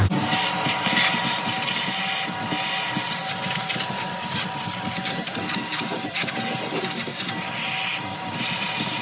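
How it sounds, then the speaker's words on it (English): A vacuum cleaner sucks up debris inside a keezer being repaired after a screw punched a hole, a loud continuous whooshing roar with scraping and rattling as bits are drawn in. "we're going to use the vacuum to vacuum some of the debris here"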